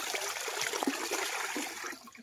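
Cold spring water flowing steadily from its source on a rural farm lot, a continuous close trickling and gushing stream that fades slightly at the end.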